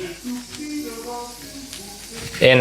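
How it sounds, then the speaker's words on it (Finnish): Shallots sautéing in butter in a pan give a soft, steady sizzle with a brief louder burst near the end. "me kuulotetaan sipulia, salottisipulia voissa"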